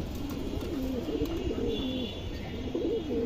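Pigeons coo steadily and softly in a low, rolling murmur among a silver-style female pigeon and others, continuous throughout with a faint hiss of background.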